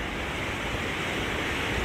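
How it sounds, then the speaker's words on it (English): River water pours steadily down four shallow steps into another stretch of the river at Cossington Lakes, a continuous broad rushing wash with no breaks, loud and close, heard alone. "it's water dropping down a couple of steps, four steps leading into like another part of the river."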